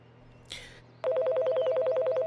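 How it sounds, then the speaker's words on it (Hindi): A brief rustle, then a telephone starts ringing with a rapid, trilling electronic bell that continues steadily and loudly to the end. "फोन बज रहा है"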